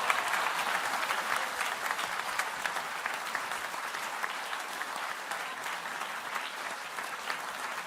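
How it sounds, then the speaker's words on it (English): A theatre audience at a bizarre-science prize ceremony claps for the contestants of a comic song competition, a steady dense wash of applause holding evenly from start to finish. "Everyone, please give them a square of applause."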